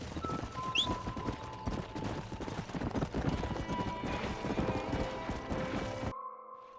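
Rhythmic clip-clop of horse hooves trotting steadily in the video game Red Dead Redemption, with a brief whinny early on and some background music before it cuts off abruptly.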